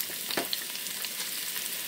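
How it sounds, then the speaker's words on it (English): Sliced onions fry in a pot for a stewed pigs' feet dish, giving a steady, close sizzle with a few faint clicks of a utensil and no talking. "So what I start first is I put my onions in."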